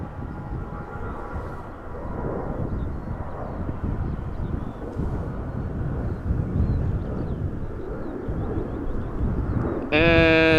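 A heavy jet taxis toward the runway threshold at Amsterdam Schiphol Airport, its steady engine whine and rumble holding at a distance, with a sharp tonal burst of another sound near the end.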